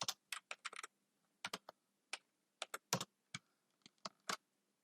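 Someone types on a computer keyboard, making quick, irregular bursts of crisp key clicks close up in a quiet room, with short pauses between the runs of keystrokes.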